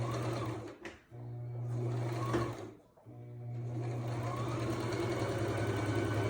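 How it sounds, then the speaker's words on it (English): A sewing machine runs a straight stitch along one side of a baby blanket, a close, steady mechanical hum broken by two short pauses. "I'm going to stitch this one side and then we will move on to the next."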